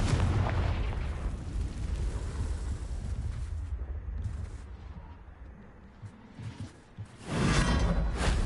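A Confringo spell blast in a witchcraft video game, a sustained roaring burst with booming rumble that fades to quieter crackles before a second loud surge of explosion at the end.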